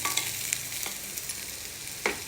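Puffed grains frying in a pan give off a steady close sizzle, with a few quick scraping stirs across the short stretch and no voices.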